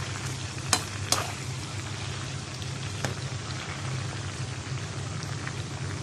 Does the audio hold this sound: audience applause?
no